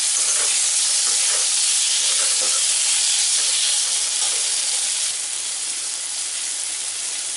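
Masala sizzles steadily in a pan, a dense, continuous frying hiss close by, with faint scraping stirs now and then and no voices.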